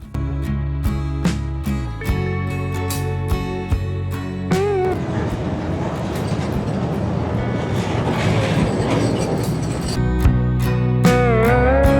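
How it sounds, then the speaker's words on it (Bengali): An amusement park bullet train runs along a lakeside track, its steady rumble and clatter swelling through the middle of the passage, with tonal music heard before and after it. "এই লেকের সাইড দিয়ে চলে এখানকার বুলেট ট্রেন"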